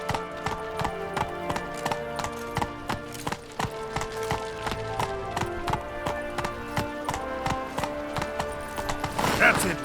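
Roach, Geralt's horse in The Witcher 3: Wild Hunt, gallops with steady, rhythmic hoofbeats close by. The beats continue without a break, and a brief rustle comes near the end.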